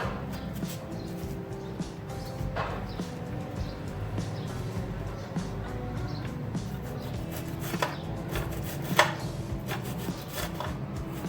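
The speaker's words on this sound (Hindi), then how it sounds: "इसके साथ हम काटेंगे ग्रीन ऑनियन" A knife slices green onions on a cutting board, making a run of soft, irregular taps under steady background noise, with a sharper knock near the end.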